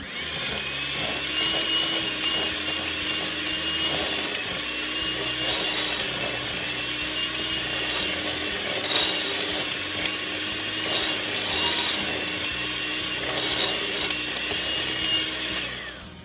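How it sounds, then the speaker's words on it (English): A hand mixer churns cooked sweet potatoes with butter in a bowl, making a continuous, fairly loud whirring drone with rhythmic scraping surges throughout and no voices. "I'm just gonna break these up a little bit with my hand mixer before I turn it on"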